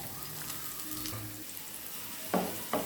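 Chopped garlic fries in a generous amount of oil for a dal bhuna with Bombay chilli, giving a faint, steady sizzle with a couple of sharper bursts near the end.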